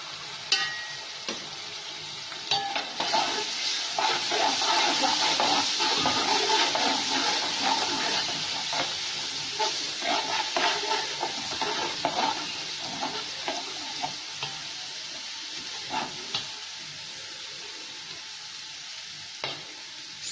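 Garlic paste frying in hot oil in a pan for aloo methi, a steady close sizzle with crackling bursts and occasional stirring scrapes, lasting throughout with no talk.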